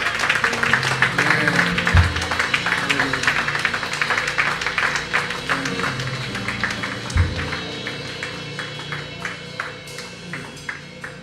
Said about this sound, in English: If you believe this, clap your hands and give God praise.